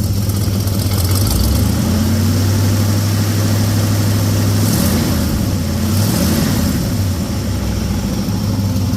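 A 1967 Chevelle engine with an overheating problem idles loudly and close, a deep, rough, steady rumble with a slight wavering throb, sounding almost like a dump truck, no talk.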